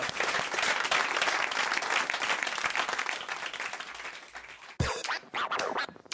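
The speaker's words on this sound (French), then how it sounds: "Allez on vous applaudit" Studio audience applauding during a French radio talk show broadcast, a steady dense wash of clapping that breaks off near the end into a few sharp, louder bursts.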